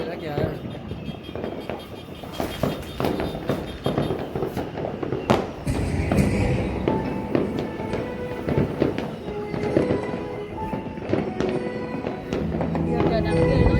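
Dense New Year 2021 fireworks going off, a continuous barrage of pops, crackles and bangs, some close and some farther away, with people talking over the noise throughout.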